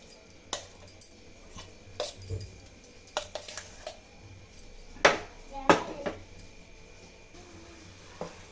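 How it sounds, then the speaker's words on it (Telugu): Amla paste stirred and cooked in a pan on a stove, with a spoon knocking and scraping against the metal in irregular clinks, two louder clanks in the middle, close and fairly quiet. "ఇట్లా కలుపుకుంటూ కుక్ చేసుకోవాలి"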